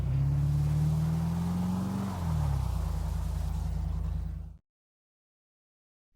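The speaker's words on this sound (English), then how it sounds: "Here, a car drives across a bridge." A car rolls across a bridge, a steady low engine rumble with a rising-then-dipping whine near the middle before the sound cuts off abruptly, no voices present.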